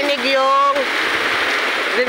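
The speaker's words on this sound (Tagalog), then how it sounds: "Grabe ang lakas ng ulan, no?" Steady, dense rain roaring on a surface, loud and close, from Tropical Storm Crising, with a person's voice briefly heard over it at the start and end.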